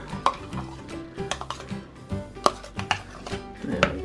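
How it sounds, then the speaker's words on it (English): Taco seasoning mix and mayonnaise get stirred together in a bowl, a spoon scraping and tapping the sides in quick, irregular strokes, close and fairly quiet. "Stir that in."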